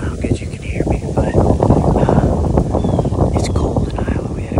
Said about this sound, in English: It is windy, as you can tell.